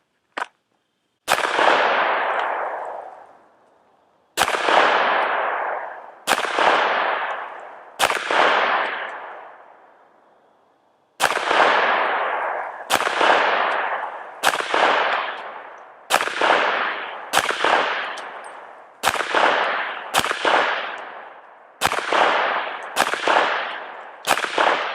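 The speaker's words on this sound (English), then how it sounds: "let's go ahead and put 15 rounds on target at 7 yards" A 9mm Springfield Armory Echelon handgun fires fifteen rounds at a target seven yards away, the sharp, loud shots spaced unevenly with short pauses, each cracking report trailing into a brief echo.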